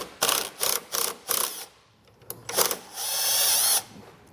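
A 10mm bolt comes out of the grille on a 2022 Chevrolet Silverado under a power drill or impact tool. Several short bursts of whirring start and stop close by, then one longer sustained run ends the sequence.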